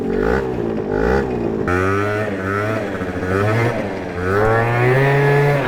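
A boosted 50cc scooter engine revs up and down while being ridden at up to about 41 mph, its buzzing tone climbing and falling in repeated surges, close and loud.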